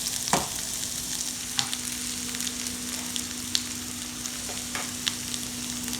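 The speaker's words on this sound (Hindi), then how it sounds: "कैरेट को मैंने बहुत ही पतला स्लाइस किया है, इसलिए वो हाई फ्लेम में जल्दी पक जाएंगे." Thinly sliced carrots fry over a high flame for Hakka noodles, giving a constant loud sizzle broken by a few sharp spatula knocks against the pan, no speech.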